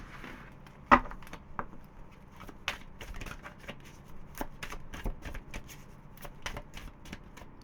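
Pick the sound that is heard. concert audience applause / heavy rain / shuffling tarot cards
shuffling tarot cards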